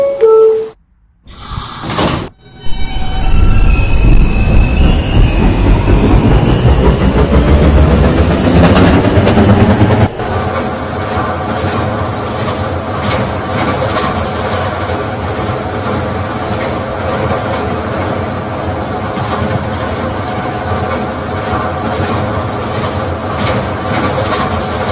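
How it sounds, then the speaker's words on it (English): An R160B Alstom subway car on the B train pulls away, its motors whining and rising in pitch as it gains speed, then it settles into a loud, steady rumble with rattling wheels and rail noise that continues to the end. "This is a Potato Brook bound B train."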